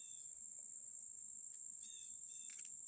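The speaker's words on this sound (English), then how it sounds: "You can probably hear all kinds of birds and crickets in the back." Steady high-pitched cricket chirring fills a quiet outdoor backyard, with a few faint bird chirps briefly poking through; no voices.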